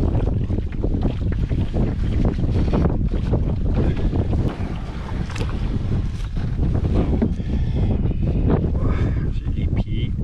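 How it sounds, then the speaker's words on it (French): Strong wind blowing across a lake while a lone paddler works a 16-foot canoe, a constant loud roar of gusts buffeting the microphone with some water sloshing, heard alone without talk. "là, le vent s'est levé"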